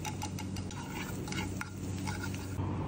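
Butter with whole spices, ginger paste and garlic paste frying in a pan for beef biryani, giving a steady close sizzle with repeated stirring scrapes and clinks throughout.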